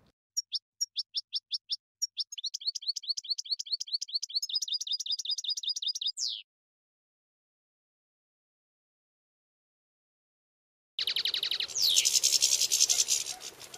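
Caged goldfinches and other wild songbirds at a Sunday singing competition in Ataşehir, Istanbul: rapid repeated chirping trills close by, a long silent gap, then another burst of bright song against rougher background noise.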